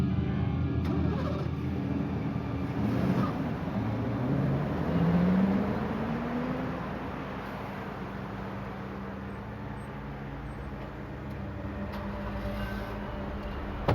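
A Mercury Cougar car pulls away from a crowded mall parking lot, its engine rumble swelling briefly as it accelerates, then settling into a steady low drone with road noise, no voices.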